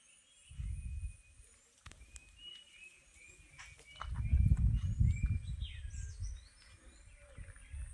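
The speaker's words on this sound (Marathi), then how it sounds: "सकाळी सकाळी पक्ष्यांचा आवाज बघा" Morning birds chirp and call here and there in a Konkan village, fairly faint, over a quiet background broken by a few soft low thumps and rumbles.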